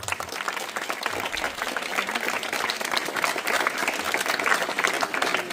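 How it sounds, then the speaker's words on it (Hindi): School audience of students giving hearty applause for teachers and parents at an Independence Day event, a dense, sustained burst of clapping that swells slightly over five seconds. "आपके टीचर के लिए और आपके मम्मी पापा के लिए एक जोरदार तालियां"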